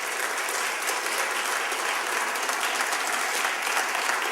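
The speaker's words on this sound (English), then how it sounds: "Let's give Roger a big hand of applause, please." A crowd gathered for a hospital ribbon-cutting ceremony claps warmly and continuously, an even wash of many hands without cheering or talk.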